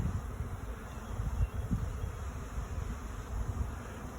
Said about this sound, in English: This is going to be a big swarm.